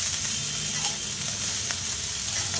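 Drumstick flowers fry in a pan with a loud, dense, continuous sizzle up close. A few faint stirring scrapes cut through it, and no voices are heard.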